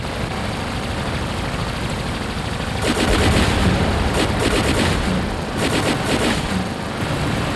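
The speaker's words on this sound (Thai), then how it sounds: "กระสุนมันบึ้มบ้าไปหมดเลยนะ" Rapid machine gun fire and explosions in the mecha combat game War Robots, a dense, continuous roar of rattling shots that surges louder in bursts toward the middle and end.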